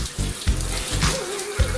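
Water pours at an Alpine waterfall with a steady, broad rush and spatter close by, along with low rumbling gusts.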